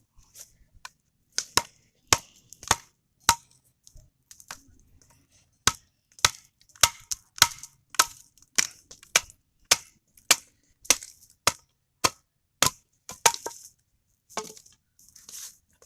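A thick Becker BK2 Ka-Bar knife batoned through firewood, struck again and again with sharp, loud, dry cracks in an uneven steady rhythm, close by with little else around.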